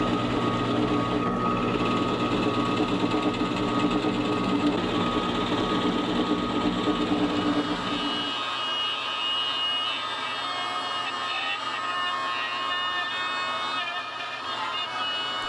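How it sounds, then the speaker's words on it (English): Forstner bit boring into a wooden guitar body cavity, a steady loud whine of the drill cutting that drops off halfway through, leaving the motor spinning more lightly and quietly. "I'm going to use a Forstner bit to remove the bulk of the material"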